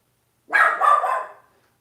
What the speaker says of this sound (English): my dog's kind of going crazy at somebody outside.